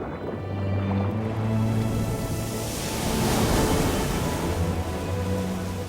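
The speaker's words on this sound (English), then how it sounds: "Currents and breaking waves don't make life any easier." Ocean waves breaking in a turbulent surf zone, a broad roaring wash that swells and recedes in slow surges, loud and close with no voices.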